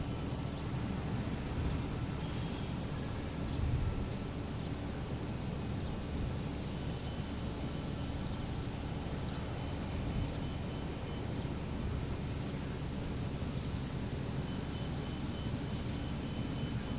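A United Embraer E175 jet arrives at Boston Logan International Airport, heard as a continuous broadband engine roar from a distance that holds steady throughout with no voices.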